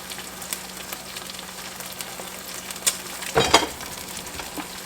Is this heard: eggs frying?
yes